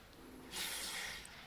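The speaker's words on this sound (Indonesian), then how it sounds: "semprot dengan chain loop." A short hissing burst of chain lube sprayed from an aerosol can onto a car door hinge, close and fairly quiet, lasting under a second.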